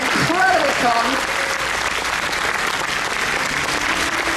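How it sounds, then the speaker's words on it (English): A convention audience applauds loudly for the AV crew, a dense, continuous clatter of many hands, with a voice calling out briefly at the start over the clapping. "I want to have another huge round of applause for the AV team"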